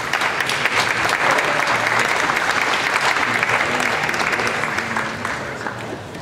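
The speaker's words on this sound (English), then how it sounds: "Let's give these guys a big round of applause." An audience at an Ontario summer cattle show for Jersey heifers applauds, a dense, loud, sustained clapping that fades slightly toward the end.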